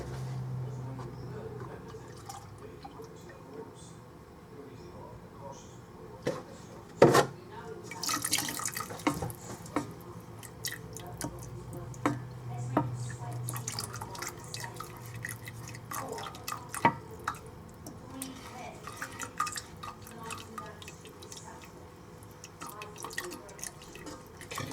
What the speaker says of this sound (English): we're still pouring the milk in very slowly